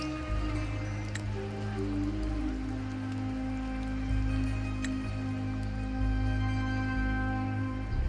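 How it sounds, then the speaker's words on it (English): Rain falling steadily in a fantasy game scene, a continuous wash of patter and drips with a low sustained drone beneath, sometimes a distinct droplet standing out; no voices. "The rain is passing."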